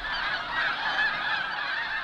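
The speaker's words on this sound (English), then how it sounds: "the geese kept coming in earnest." Snow geese honking in a flock during migration, with dense overlapping nasal calls that carry on continuously and loudly, as though many birds are calling together close by.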